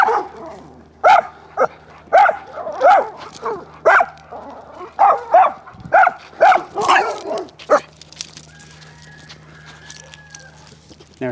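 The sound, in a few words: reactive dog barking on a leash during a walk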